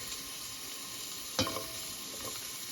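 Garlic sizzles steadily in a frying pan for chicken feet adobo, a faint continuous hiss broken by one sharp scrape of stirring, with no talking.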